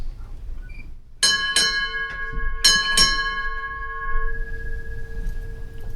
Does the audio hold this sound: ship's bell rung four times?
yes